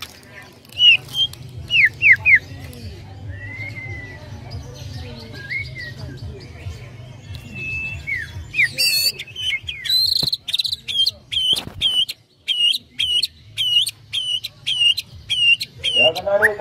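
Gacor white-rumped shama (murai batu) song: varied whistles and chirps, then a long run of rapid, evenly repeated sharp notes, with crickets and a low steady hum underneath.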